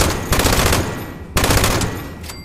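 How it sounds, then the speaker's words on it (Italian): Rapid automatic gunfire from a fast-firing weapon in Fallout 76, two loud close bursts separated by a brief pause. "Spara velocissima questa roba, consumerà le munizioni che è una meraviglia"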